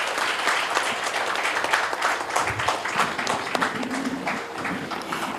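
An audience claps in sustained applause, a dense crackle of many hands at moderate distance that carries evenly and then begins to thin out.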